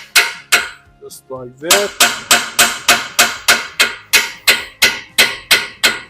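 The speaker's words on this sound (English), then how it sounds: "strike the surroundings where the tie rod inserts into the spindle" A hammer strikes a corroded spindle around the outer tie rod end of a 2003–2007 Nissan Murano, landing a dozen loud ringing metallic blows in an even rhythm after a brief spoken phrase.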